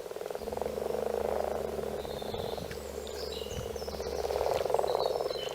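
A person imitates the mating call of a common frog with a continuous croaking, purring rattle that swells and fades over several seconds.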